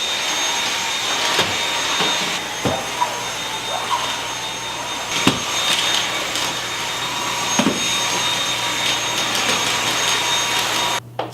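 A vacuum cleaner runs steadily up close in a kitchen with a constant whirring drone, broken by a few brief knocks and bumps as it moves.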